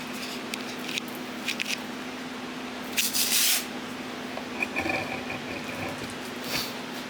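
A surface is hand sanded with fine-grit sandpaper while being polished, producing soft scratchy rubbing strokes and a few brighter swishes over a steady low hum, close by and with no talking.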